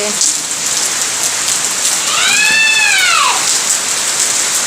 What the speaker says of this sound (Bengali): দেখো কেমন বৃষ্টি হচ্ছে দেখো